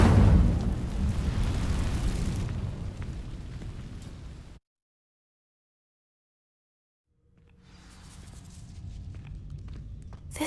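An Incendio fire spell ignites dry vines in Hogwarts Legacy with a loud whooshing, crackling burst that roars and fades. A few seconds of total silence follow before a softer rustling, crackling tail rises again.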